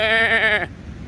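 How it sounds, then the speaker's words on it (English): A goat gives one loud, close bleat lasting just over half a second, with a wavering, strongly pitched tone that stops abruptly, leaving quiet outdoor background noise. "Oh, I love my goat."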